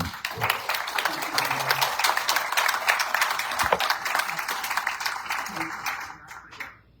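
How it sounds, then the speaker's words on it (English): An audience at a Chamber of Commerce candidate forum for a 2026 primary election applauds a U.S. Senate candidate, giving steady, full clapping for about six seconds before it thins out and fades, with a few voices underneath. "Give him a round of applause"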